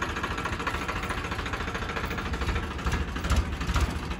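A farm tractor with a spray tank runs in a Haryana village field, its engine chugging in a steady, close, rumbling throb.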